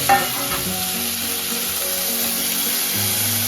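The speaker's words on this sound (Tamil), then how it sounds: "இந்த ஒரு ஸ்டேஜில் நம்ம வித்தவுட் எனி டவுட்ஸ் நம்ம அப்படியே வெஜிடபிள்ஸ் ஆட் பண்ணிக்குவோம்" Vegetables, onion and tomato among them, sizzle and fry steadily in a hot pan for bisi bele bath, a continuous close, loud crackle with no talking.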